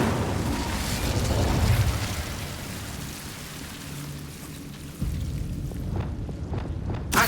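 Incendio fire spell cast in Hogwarts Legacy: a loud, broad roaring burst of flame with rumbling crackle that eases, then swells again, with a few sharp pops near the end.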